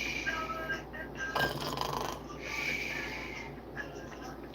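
A person imitates snoring on a live stream, with a few faint snorting, rasping breaths under quiet background noise.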